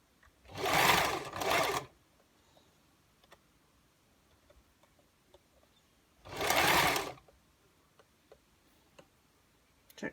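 A sewing machine stitches gathered fabric for a gypsy skirt in two loud bursts of rapid whirring, one about a second long and a later one, with quiet pauses and faint ticks between them.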